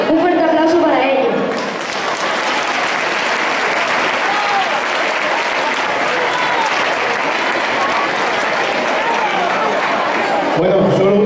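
Loud, sustained applause fills a children's and youth folk dance festival in San Vicente after a group's performance, steady and dense for about nine seconds, with someone speaking Spanish over a microphone before and after.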